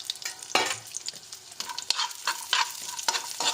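Dry fruits frying in a pan, a crackling sizzle broken by repeated scraping strokes of a stirring spoon at an uneven rhythm.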